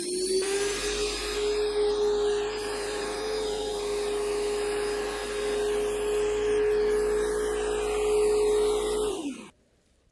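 Graco X5 airless paint sprayer running steadily after the power switch is turned on, a loud continuous motor whine with a sustained tone lasting about nine seconds before cutting off abruptly.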